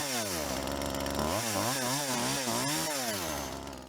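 A chainsaw in a horror film scene roars continuously, its engine pitch rising and falling in quick revs before dipping at the end; loud and close, with no voices.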